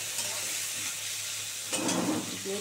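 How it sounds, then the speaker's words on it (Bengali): Carrots frying in a pan for homemade chow mein give a soft, steady hiss, fairly quiet, with a brief rise of stirring scrapes toward the end. "এটাকে খুব সুন্দর করে একটু ভেজে নেবো"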